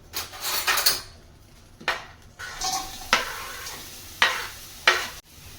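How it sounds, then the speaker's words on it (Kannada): Bitter gourd pieces are dry-roasted in a kadai on a gas stove. A spatula scrapes and stirs them in short, intermittent strokes over a faint sizzle, with no talking. "ಈ ಹಾಗಲಕಾಯಿ ಪೀಸ್ಗಳನ್ನು ಇದರೊಳಗಡೆ ಹಾಕಿ ಹುರ್ಕೊಳ್ಳೋದು"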